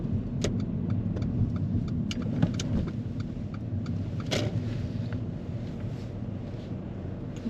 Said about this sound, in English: If you could pull in and park up on the left just before the red car.